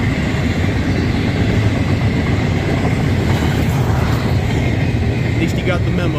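A Union Pacific intermodal freight train rolls past at speed, a loud, continuous rumble and rattle of wagons that fills the whole stretch, with a voice speaking over it.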